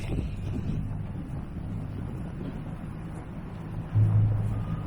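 Wind rumbles and buffets against the microphone on a freezing, snowy late-night walk through Toronto. The low roar is steady and close, and it swells into a stronger gust near the end.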